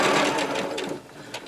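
A sewing machine stitches fabric in a fast, steady whir of needle strokes, close and loud, easing slightly toward the end.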